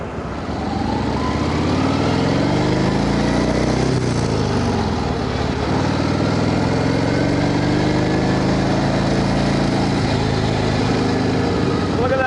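A 1931 Indian 101 Scout motorcycle engine runs loud and close, holding a steady, continuous mechanical drone for the whole stretch with no pauses.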